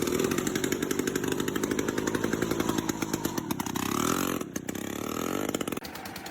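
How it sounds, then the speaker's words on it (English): A homemade motorcycle built to look like a train runs with a loud, buzzy engine, its rapid chainsaw-like pulses steady and close, with a brief dip near the end. "This is a motorcycle that looks like a train."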